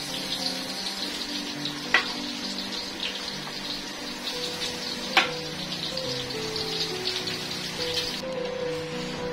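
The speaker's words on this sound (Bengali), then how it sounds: "আমি চালটা একটু ভেজে নেব" Onion and rice frying together in a pan, a steady, continuous sizzle with hiss throughout, two brief sharp clinks of a utensil against the pan, and no talk.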